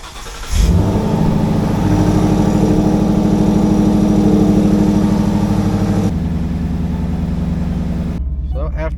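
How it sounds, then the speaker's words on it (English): A Ford Mustang with clutch trouble and a possible misfire starts for a test drive: a brief crank catches into a loud, steady idle that drones on, then settles lower near the end, close to the microphone. "we're bringing this Mustang on a little test drive just to find out what's going on"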